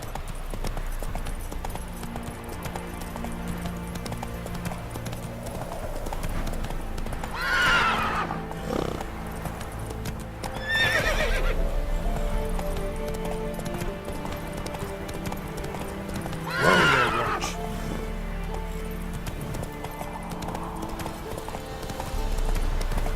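Horse hooves clip-clopping at a steady gallop in The Witcher 3, with several loud neighs and whinnies rising over the hoofbeats and a faint voice urging the horse on.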